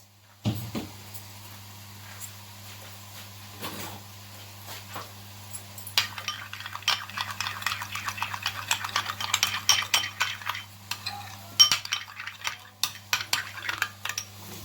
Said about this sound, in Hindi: उसमें हम ऐड करेंगे मायोनीज, केचप, इन दोनों को अच्छी तरह से कर लें मिक्स